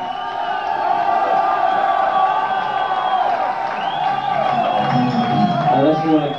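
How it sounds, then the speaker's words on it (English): A concert crowd at a 1983 London rock gig cheers and whoops, a sustained roar of many voices with scattered shouts and some clapping, steady and loud across the whole stretch. "just give them another round of applause for the super gig"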